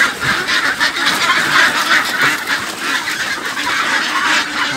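A flock of ducks being caught by hand calls and quacks continuously, a dense, loud jumble of nasal cries and flapping commotion close by.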